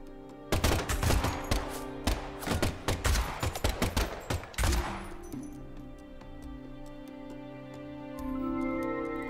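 A burst of gunfire in a shootout from the video game Deadly Premonition 2 comes as rapid, loud shots in quick clusters, then stops and leaves a lingering musical tone.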